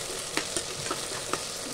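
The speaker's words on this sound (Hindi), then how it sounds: "देखिए थोड़ा थोड़ा ये फ्राई होने लगी है" Okra frying in a pan, a close steady sizzle broken by a few light scraping stirs, brief and moderately quiet.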